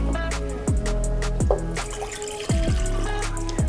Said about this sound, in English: First things first, we're gonna add 1 cup of water.